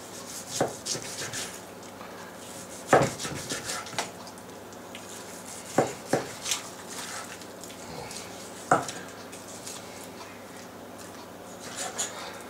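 A knife slices trimmed pieces of meat on a board, giving soft rubbing cuts and several sharper taps spread unevenly across the stretch, fairly close and quiet.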